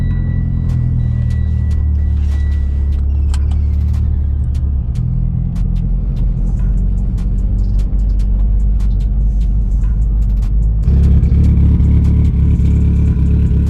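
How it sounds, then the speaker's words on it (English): A Mitsubishi Evo X idles and rumbles loudly up close, its engine noise rough and raspy from a downpipe exhaust leak at the missing wideband O2 sensor port, with a deeper surge near the end. "This thing is sounding kind of funny because it's missing the wideband O2 sensor, so there's like a hole right in my downpipe."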